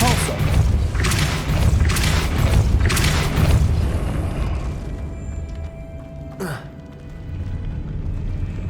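A Depulso force spell cast in the Hogwarts Legacy video game, a series of loud booming thuds and mechanical rumbles followed by a sharp whoosh, with no talk.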